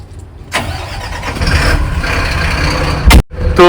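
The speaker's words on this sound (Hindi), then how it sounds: "मैं ट्रक को स्टार्ट कर लेता हूँ।" A Bharat Benz 2826 6x4 truck engine cranks and catches, then settles into a loud, close diesel rumble with a brief surge before cutting out near the end.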